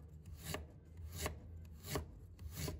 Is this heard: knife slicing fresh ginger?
yes